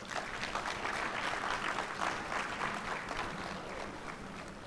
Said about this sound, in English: And I believe you deserve to applaud yourself.